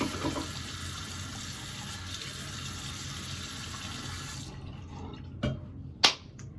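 A bathroom tap runs steadily while someone rinses off after brushing teeth, a continuous close wash of water that cuts off near the end, followed by a couple of sharp clicks or taps.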